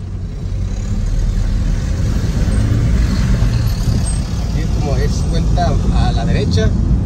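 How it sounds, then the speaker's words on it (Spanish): A car passes along a road behind the hills of Cerro Colorado in Tijuana, a steady, loud engine and tire roar under someone speaking Spanish close by. "No, sí viene carro."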